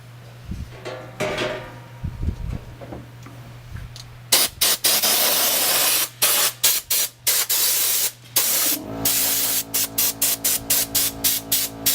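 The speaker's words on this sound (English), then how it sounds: "I'm also going to use the compressor on here just to get any debris that's stuck in here out" An air compressor nozzle blows debris out of the ball screen trays of a mobile seed cleaner, giving loud, broadband hissing blasts in quick bursts over a low steady machine hum.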